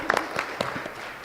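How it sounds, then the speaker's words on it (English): Brief applause from the audience at a conference plenary, moderate clapping with a few sharper claps near the start, a voice faintly audible underneath. "another round of applause. That was so good."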